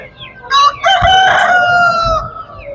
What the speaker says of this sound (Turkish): Markalı tavukları çek.